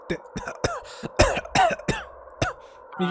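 A man coughs in a harsh, choking fit, several rough bursts and throat-clearing rasps coming in uneven clusters, close and loud with short gaps between them.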